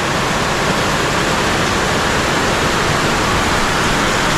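Strong rainwater runoff rushes in a dense, loud, unbroken torrent, like a small waterfall close by, with no voices over it.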